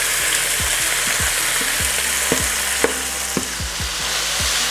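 Seasoning sizzles and crackles in hot oil in a pot for Jamaican steamed callaloo, a loud continuous fry broken by sharp spoon-scrape clicks as it is stirred.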